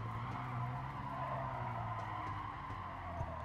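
In the racing video game Gran Turismo Sport, a car skids with understeer, giving a faint, sustained tire scrub over a low engine drone throughout.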